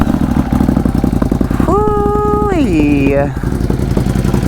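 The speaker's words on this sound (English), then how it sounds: "Ducati definitely known for all of the V-twin power plants that they've made over the years, and I must say the sound is very pleasing" A Ducati V-twin motorcycle engine idles loudly up close with a lumpy, throbbing rhythm while a voice exclaims briefly over it and the pitch swells and falls.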